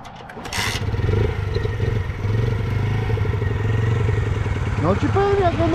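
A small, tuned 50cc motorcycle engine cranks and catches, then idles in a steady rapid chatter close by, with a brief throttle blip near the end and a voice speaking briefly over it.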